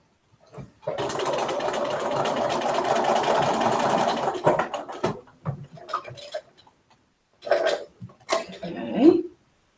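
A sewing machine stitches a seam on a Raggedy Ann doll dress, a close, steady whirring run of about three seconds followed by shorter stop-start bursts and handling noises.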